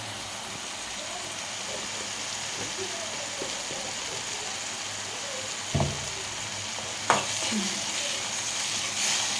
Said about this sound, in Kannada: ಟೊಮೆಟೊ ಹಸಿಮೆಣಸಿನ್ಕಾಯಿ ಚೆನ್ನಾಗಿ ಫ್ರೈ ಹಾಕ್ಬೇಕು ರೀ